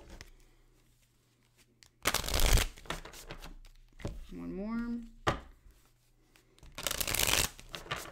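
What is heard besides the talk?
shuffling tarot cards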